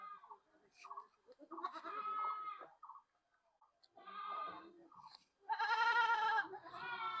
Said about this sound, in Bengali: এটা বিটলের একটা খাসির বাচ্চা আপু